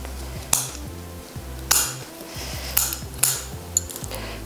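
Fir branches for a loose Christmas wreath snipped from a thick branch: several sharp, crisp cuts at irregular intervals, close and fairly clear, with light rustling between them and no talking.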